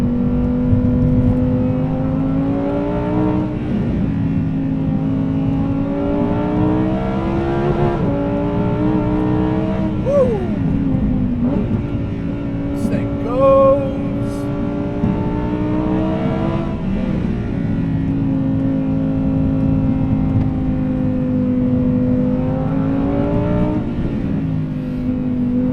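A Lamborghini Huracan Evo (2020) in Corsa mode, its engine revving hard through repeated upshifts with rising pitch sweeps, loud and close, with no talking.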